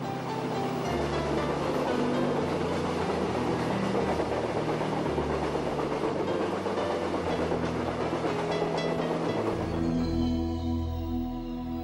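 Passenger train travelling through the night in Australia, heading north toward Cairns: a steady, continuous rumble of rolling wheels and carriage noise fills the whole clip, and the tone shifts near the end. No one speaks.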